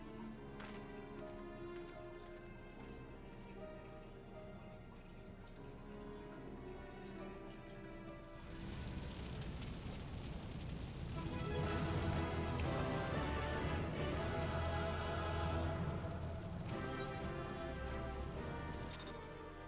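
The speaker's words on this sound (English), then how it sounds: "It's raining here again. It never stops." Rain falling in the video game Final Fantasy XIV, a steady hiss of drops that begins softly under game music and then swells into a denser, louder downpour for the rest of the stretch.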